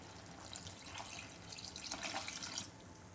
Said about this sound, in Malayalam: ഇനി ഇതിലേക്ക് ഈ തേങ്ങയുടെ 1/4 പാൽ ഒഴിച്ചു കൊടുക്കാമേ.